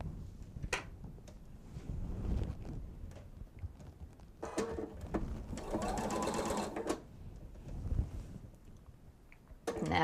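Stitching a quarter-inch seam on a bench pillow, a sewing machine whirs in several short bursts separated by pauses and small clicks, with one longer run near the middle, close by and alone.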